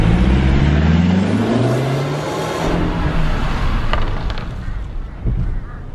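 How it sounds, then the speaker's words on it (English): A Mercedes C200 engine pulls hard from a standstill to 50 and back to a stop, its loud, close note climbing steadily in pitch before easing off into quieter road noise and a few faint knocks. "Okay, here we go in the Mercedes. 0 to 50 to 0."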